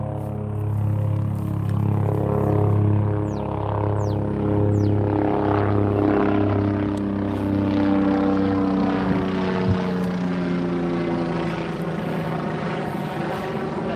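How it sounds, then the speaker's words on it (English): A helicopter flying overhead above a pond in Arlington, Texas, a steady loud rotor thump and engine drone that holds throughout and slowly fades a little toward the end, with no talk. "Chopper in the sky, hopefully that's a good sign."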